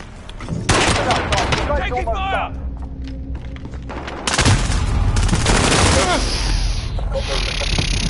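Gunfire in Call of Duty: Modern Warfare, with rapid bursts and heavy booming shots, loud and close, mixed with game voice callouts and a player's excited talk over the action.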